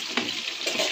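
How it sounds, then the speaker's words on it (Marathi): Chicken pieces fry in a pan with a close, steady sizzle, broken by a couple of quick stirring scrapes over about a second. "अशा पद्धतीने फ्राय करून घ्यायचं आपलं बाकीचं चिकन सगळं"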